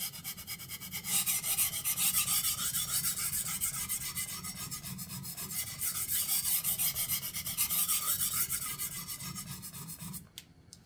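A kitchen knife edge is sharpened and honed on a stone at a set angle, producing continuous close rasping strokes in a steady back-and-forth rhythm that stop abruptly near the end.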